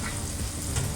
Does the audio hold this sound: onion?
yes